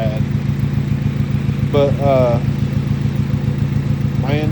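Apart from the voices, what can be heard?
Honda Civic engine running rough, sounding like a tractor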